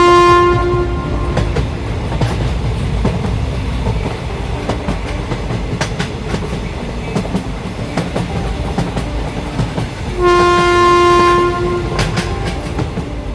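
A cartoon train rumbles along steadily with rhythmic clatter on the rails, and a loud horn sounds at the start and again near the end.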